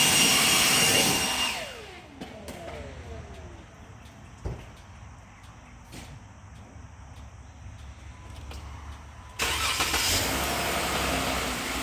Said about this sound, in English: then I turn the cart on and leave it running for like 10-15